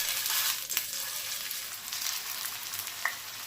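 Cabbage pakoras sizzle steadily as they are dropped into hot oil, a dense, close frying hiss with a few sharp pops and spits.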